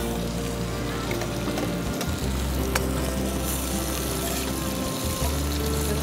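Garlic, ginger and green chilies frying in a pan of oil for a curry, giving a steady close sizzle with low stirring bumps under it and no talk.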